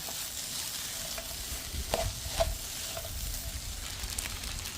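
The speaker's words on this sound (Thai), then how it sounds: "ชอบกินผักก็ต้องใส่ผักลงไปนะคะ" Vegetables stir-fried in a hot pan for tuna fried rice, a steady close sizzle with scraping stirs and a few sharper clacks near the middle, with no one talking.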